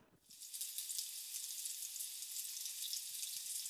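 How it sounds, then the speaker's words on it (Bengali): Washed fine-grain rice frying in oil in a pan for prawn biryani, giving a steady, close crackling sizzle that holds throughout after a brief quiet start, with no talking. "একটু চাউল দিয়ে ভাজাভাজি করে নিচ্ছি।"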